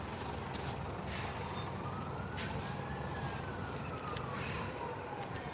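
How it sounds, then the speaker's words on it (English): A fire engine's siren wails across the fire scene on Cummins Highway in Boston, its pitch rising and falling over constant street and engine noise, at a moderate distance. "As you can hear, more fire engine"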